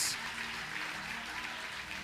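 Church congregation applauding during a service, a steady broadband patter of many hands clapping together throughout, moderately loud and continuous with no voices on top.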